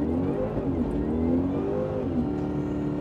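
Jaguar XKR X100 under full throttle, the supercharged engine note rising in a strong, steady pull with wavering harmonic tones as revs climb, heard loud from inside the car without speech.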